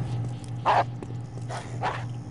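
A dog barks in a video game: three short, sharp barks spaced across the moment over a steady low electronic hum.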